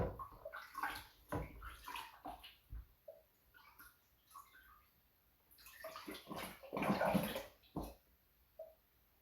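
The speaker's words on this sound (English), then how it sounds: "can you guys hear the continuous bubbling off on the side of the wine" Home-brew wine bubbling through its airlock, soft irregular gurgles and pops recurring in bursts, faint and close, with no talking.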